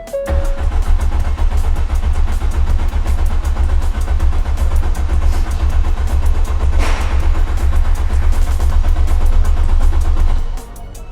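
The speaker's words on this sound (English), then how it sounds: "We're just about to crank her over to build up the oil pressure" Ford Fiesta ST180 engine, freshly fitted with a hybrid turbo, cranking over on the starter without firing, a loud steady churning drone running unbroken for about ten seconds before cutting off.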